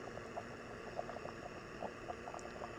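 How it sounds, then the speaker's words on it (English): Water at a roaring boil on a camping stove, heard as a steady, moderately loud hiss and bubbling rush with the burner's low roar beneath it, no talk. "that's what we're looking for, that roaring boil"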